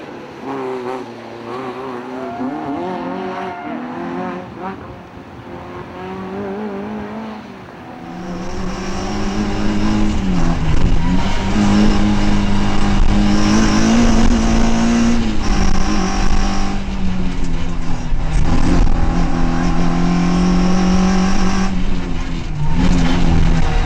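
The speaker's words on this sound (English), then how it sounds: "just one place clear, the Peugeot 106 of Ewan Mackay and Michelle Falconer" A Peugeot 106 rally car on the Tour of Mull 2009 rally, its engine loud and close, revving through gear changes and climbing to a sustained high-pitched roar.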